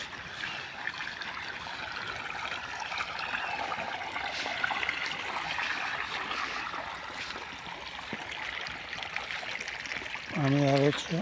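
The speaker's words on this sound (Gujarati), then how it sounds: "મિત્રો પાણી ચાલુ થઈ ગયું છે આપણે એરંડામાં." Irrigation water flows into a castor field as a steady, fairly soft rush and trickle that lasts throughout, with faint voices in the background and a short, louder tonal sound at the very end.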